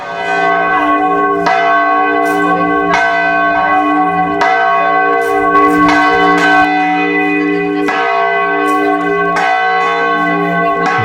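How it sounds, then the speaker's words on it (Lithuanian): Church bells in a Portuguese town peal loudly and continuously during a festival, with repeated overlapping strikes and long ringing tones and no voices. "Bažnyčios varpai skambėjo nuolat."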